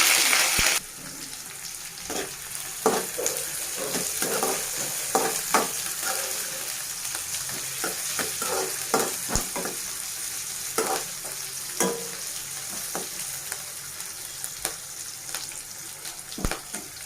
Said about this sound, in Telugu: onion fry అవ్వనివ్వాలండి